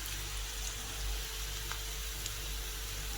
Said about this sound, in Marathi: फोडणी